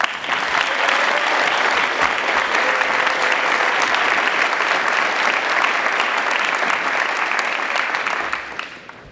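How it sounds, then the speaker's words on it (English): Sustained, dense applause from a large crowd at the 2018 Valemount Secondary School graduation ceremony, loud and even throughout before trailing off at the very end. "we'd like to give a huge round of applause to the teachers and staff of Valemount Secondary"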